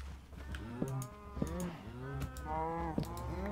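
A cow in the video game Minecraft moos repeatedly, four or five short, close lowing calls in a loose rhythm over a steady low background drone.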